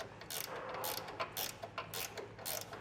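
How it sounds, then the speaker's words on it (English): A ratcheting wrench snugs down the nuts on a Blue Ox base plate kit for a 2020 Chevrolet Silverado, giving quick repeated clicking bursts in an even rhythm, close and fairly quiet, with no talk. "With everything snugged down with that ratcheting wrench"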